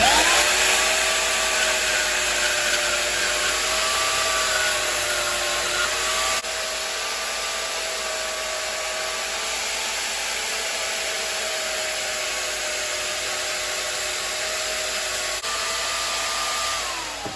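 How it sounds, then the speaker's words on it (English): A power tool grinds or cuts off the protruding Corby screw heads on a knife handle, with a loud, steady high-pitched whine that runs continuously with slight shifts in pitch and no talking. "Go ahead and cut the Corby screw heads off."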